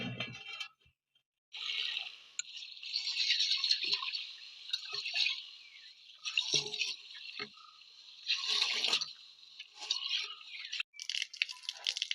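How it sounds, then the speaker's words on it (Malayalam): Water poured into a pot of thuvara (pigeon pea) payasam with rice, a steady hissing splash that comes in uneven bursts over several seconds after a brief pause, close and moderately loud, with no talking. "കുറച്ച് വെള്ളം വെച്ച് കൊടുക്കുന്നുണ്ടേ"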